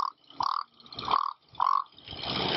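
A frog croak imitated on a handheld bird whistle by rolling the tongue: three rolling, throaty bursts close to the listener, followed by a longer rasping trill, with no talking.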